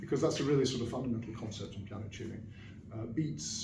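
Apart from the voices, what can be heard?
No distinct noise like a dog, phone or traffic.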